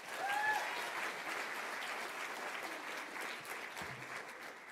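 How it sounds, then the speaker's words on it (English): Steady audience applause for an award nominee at the Victorian Homelessness Achievement Awards, a sustained even wash of clapping from a room full of people, close and continuous throughout. "please let's give a hearty round of applause to each nominee"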